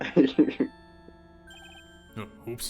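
A video game phone ringtone from Ace Attorney Trials and Tribulations plays as a thin, electronic melodic tune with repeating beeps, starting after a brief spoken exclamation and ending under a short burst of talk.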